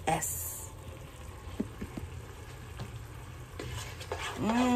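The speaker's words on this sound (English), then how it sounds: "That sofrito is cooking real good" Sofrito frying in a pan with a close, crackling sizzle as it is stirred, utensil scrapes and light clinks over the top, and a voice briefly audible near the end.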